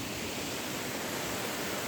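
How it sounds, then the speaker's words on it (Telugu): Viripara Waterfalls in Munnar, a small fall in the dry season, gives a steady, even rush of falling water that fills the short moment with constant broadband noise and no voices. "ఇది వాటర్ఫాల్"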